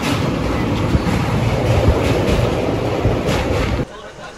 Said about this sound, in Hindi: सो गाइस ये जा रही है लोकल ट्रेन अभी